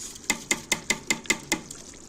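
Rice goes into a pot of tomato sauce and is worked in with a utensil, giving about seven evenly spaced, sharp scraping knocks against the pot, close and clear, that fade out at the end with no voices.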